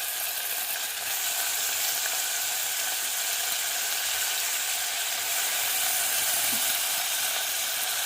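Onion and chopped tomato sizzle in hot oil in a pan for mutton curry, with curry leaves and coriander, a constant bright frying hiss close by with faint occasional stirring.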